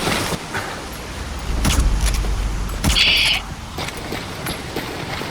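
Engine rumble of a vehicle driving in the video game Metal Gear Solid V: The Phantom Pain, a steady low drone that swells around the middle, with brief clicks and a short high whir over the top.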